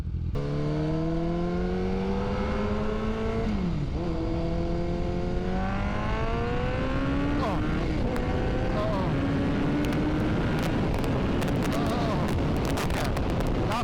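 A modified Honda CBR motorcycle engine screams at full throttle, loud and close. Its whining pitch climbs steadily through the gears over a constant roar of wind.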